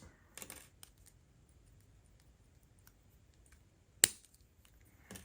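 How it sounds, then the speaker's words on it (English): Wire cutters snip the ends of wire short while wrapping a small teardrop stone, a few sharp metallic clicks spaced apart in a quiet room, one crisp snip standing out. "what I'm going to do is I'm going to trim all of these short"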